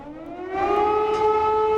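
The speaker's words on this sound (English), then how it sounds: "Air raid sirens filled the air in parts of eastern Ukraine Friday" An air raid siren in eastern Ukraine wails steadily, its tone rising and then holding, loud and unbroken with no voices.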